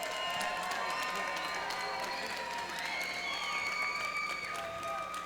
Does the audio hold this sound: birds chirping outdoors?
no